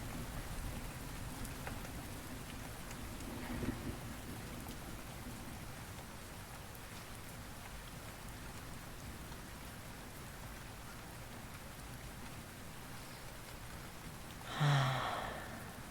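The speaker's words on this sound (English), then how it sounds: "The sound of the rain." Steady soft patter of rain falling throughout, with a brief louder rustle near the end.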